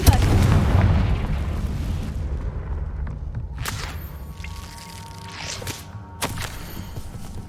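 A Confringo spell explosion in Hogwarts Legacy opens with a loud booming blast whose roar slowly fades. A few sharp cracking pops follow, one near the end. No voices are heard.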